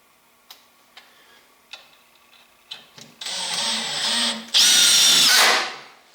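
A cordless drill driving 3-inch screws into a wooden reloading bench: a few sharp clutch ticks first, then two loud, close bursts of whining motor as screws are driven home.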